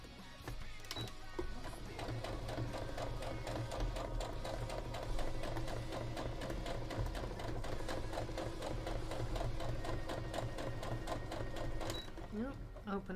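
A sewing machine stitches a seam in cosplay fabric with an even, rapid mechanical chatter that runs throughout, while a person talks over it.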